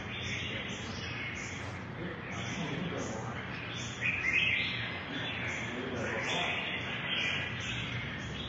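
A group of captive red-whiskered bulbuls chirps and calls continuously at moderate distance, with repeated bright tweets over a steady background murmur that may include faint talk.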